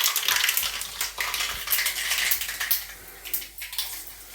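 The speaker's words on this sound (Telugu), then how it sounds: "తాలింపు చిన్న బాండీలో వేస్తున్నట్టున్నావు" Tempering sizzles in a small pan in a village kitchen, a bright, crackling hiss with uneven bursts and occasional light clinks of utensils, close and fairly loud without talk.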